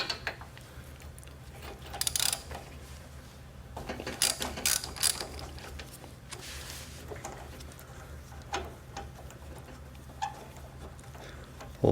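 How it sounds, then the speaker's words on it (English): A ratchet wrench clicks in quick bursts while loosening and removing the spark plug from a Briggs & Stratton small engine, the sharp ratcheting close and loud against a low steady background hum, with no talking. "Pull the spark plug out."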